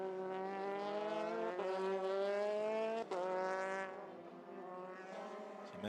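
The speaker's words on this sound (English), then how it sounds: "teases the throttle of the Carlin Motorsport car, and now hurtles down the Mistral straight for the final time" A Carlin Motorsport single-seater in a Euroformula Open race at Paul Ricard screams down the Mistral straight, its engine note holding a loud, steady harmonic whine that dips briefly and then climbs again as the car passes.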